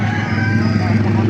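A rooster at a poultry market stall crows loudly and close by in one short call, with other fowl and background noise behind it.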